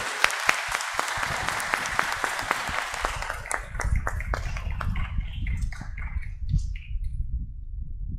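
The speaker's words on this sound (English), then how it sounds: "Let's give the Señor a clap offering." A church congregation claps at a solemn Epiphany Mass welcoming the image of Nuestro Padre Jesús Nazareno de Quiapo, a loud steady patter in the first three seconds that thins into scattered claps over a low rumble.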